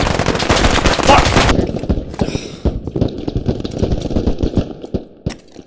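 Rapid automatic gunfire from a teammate in the video game Squad, a dense burst of loud close shots at first, then scattered single cracks and thuds trailing off in the background.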